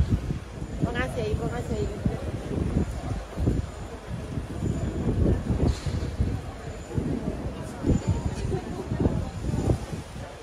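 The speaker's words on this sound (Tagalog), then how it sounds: "i-voice over ko na lang kasi napakalakas ng hangin" Strong outdoor wind in Croatia buffets the microphone in heavy, gusty low rumbles that rise and fall throughout, while a person talks over it.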